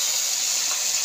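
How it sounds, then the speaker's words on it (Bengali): Water pours steadily into a pan of fried onions and salt, a continuous close splashing hiss that holds at the same level throughout. "এর মধ্যে আমি দিয়ে দিচ্ছি জল, দিয়ে দিলাম।"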